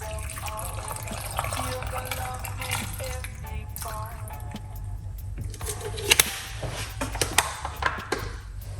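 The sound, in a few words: water poured into blender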